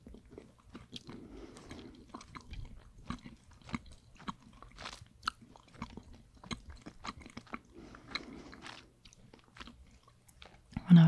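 Dutch candy is chewed close up in a quiet room, with soft crunches, wet smacks and biting clicks coming in irregular bursts and pauses, loud against near silence.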